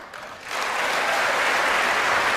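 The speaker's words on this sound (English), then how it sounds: "Watch who's clapping." Clapping from a large audience at a State of the Union address, swelling quickly after a brief quieter start into a loud, dense, sustained ovation.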